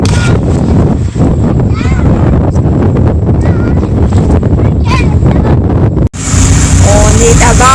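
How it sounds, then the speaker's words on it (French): A pontoon boat motor drones steadily and loudly, straining, with wind buffeting the microphone, while voices chatter and shout over it. "On est à bord du ponton! Ça va se promener! Ça force ce moteur-là!"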